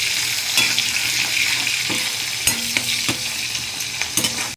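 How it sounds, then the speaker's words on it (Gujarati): Green chillies sauté in hot oil in a pan for a potato and fenugreek curry, giving a steady close sizzle broken by repeated spoon scrapes and stirring clicks. "આને બી સાતળી લઈશું।"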